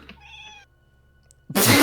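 A house cat gives one clear, close meow, then goes quiet. A sudden loud rustle or bump near the microphone comes at the end.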